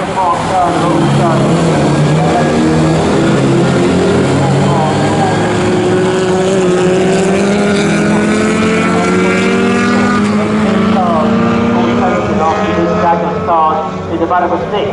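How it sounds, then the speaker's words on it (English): Racing cars at Snetterton circuit in an Equipe GTS race, engines roaring and whining with shifting pitch as they pass, loud throughout and under commentary. "Those cars heading up towards the corner now."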